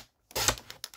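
Scissors trimming the sides of a piece, heard as a quick close snip followed by a few lighter clicks after a brief silence.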